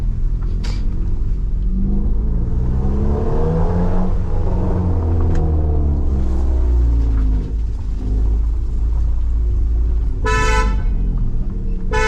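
A car horn blares in a short burst over a steady, loud rumble of traffic and engines on a narrow street, with a fainter toot near the start.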